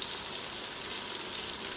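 Ginger garlic paste sautés in an Instant Pot with chilies, giving a steady close sizzle and crackle of frying with no talking.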